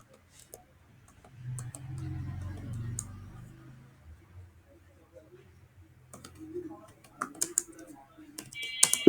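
Keystrokes tap out a web search on a computer keyboard, with scattered light clicks and a quicker run of taps near the end, alongside a voice speaking in the background.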